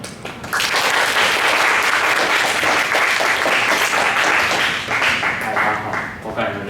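Warm applause from a school audience welcoming a returning alumnus speaker: a dense, loud burst of clapping that starts abruptly and stays full for several seconds before tapering slightly, with faint voices mixed in.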